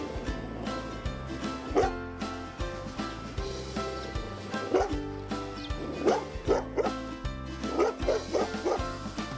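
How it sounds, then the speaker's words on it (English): A nine-month-old Great Pyrenees and Golden Retriever mix gives repeated short barks and yips at close range, with whimpers in between, over a steady background hum. "Next up is Max, a Great Pyrenees Golden Retriever mix, 9 months old."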